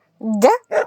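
A dog gives two short barks, the first a rising yelp and the second a lower woof, close and fairly loud with a brief gap between them.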